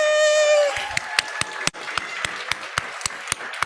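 After a short cheer, people at an in-person scientific meeting clap in a steady rhythm of distinct, fairly close claps that keep going to the end.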